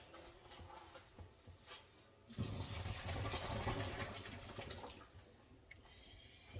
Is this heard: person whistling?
no